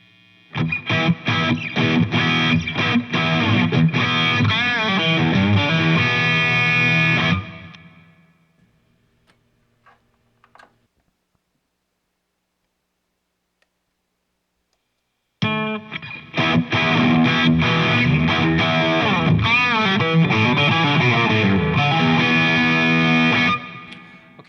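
Heavily distorted electric guitar through a Fryette LXII amp in flat mode plays dense chugging riffs, falls silent for several seconds, then resumes through the Fryette 252 with EL34 voicing, equally loud and driven.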